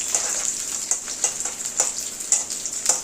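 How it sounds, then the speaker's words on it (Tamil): Ginger and garlic frying in a pan for tomato chutney, a steady bright sizzle with small periodic pops and crackles, close and fairly loud, no talk. "இது கொஞ்சம் நல்லா ஃப்ரை ஆகட்டும்"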